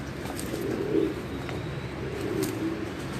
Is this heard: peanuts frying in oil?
no